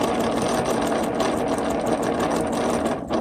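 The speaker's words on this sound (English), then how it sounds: "we'll start stitching. And I always use my needle down. So we're stitching at 1/4 inch" A sewing machine runs continuously at a steady pace, stitching a quarter-inch interlocking seam with a dense, even mechanical whir and rapid needle rhythm close up.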